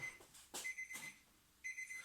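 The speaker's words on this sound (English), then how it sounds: "back to the front until you hear the buzzer" An electronic workout timer buzzer sounds in repeated bursts, a steady high tone that stops and restarts during a circuit training class for older adults.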